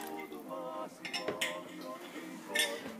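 A spoon scrapes and clinks against a bowl while stirring a cheese sauce made with cottage cheese for Megrelian gebzhalia, with light irregular metallic taps and soft wet stirring throughout.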